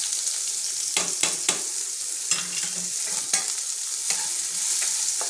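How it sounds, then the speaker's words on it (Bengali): Chopped onion fries in hot oil with black cumin (nigella seeds), a continuous sizzle broken by repeated scraping stirs of a spatula against the pan, close up and without voices. "এটা আমি লাল লাল করে ভেজে নেব।"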